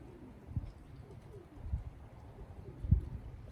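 Racing pigeons in a loft give soft, low coos, a few brief throaty calls spaced apart over a quiet, faint background.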